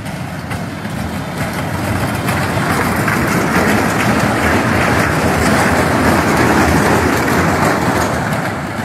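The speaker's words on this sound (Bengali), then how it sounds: "যদিও ট্রেনটি খেলনার, তবুও রিয়েল ট্রেনের মতোই সবকিছুই।" A toy train for children runs on its rails in a park at a city zoo, giving a steady, loud rumbling roll that builds slightly and holds throughout without talk.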